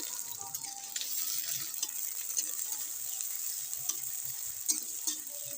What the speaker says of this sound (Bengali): তেলটা গরম হয়ে গেছে এর মধ্যে আমি পেঁয়াজ দিয়ে দিলাম